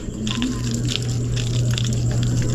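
A little water pours into a cooking pot that already holds coconut milk, a steady, soft running trickle close by over a low constant hum, with no talking.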